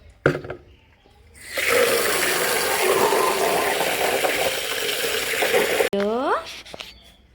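Water gushing into a container at home, a loud, steady rush lasting about four seconds before stopping abruptly, with a voice and a short chirping sound around it.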